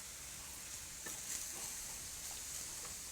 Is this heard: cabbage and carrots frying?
yes